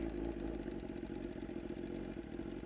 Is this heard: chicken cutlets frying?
no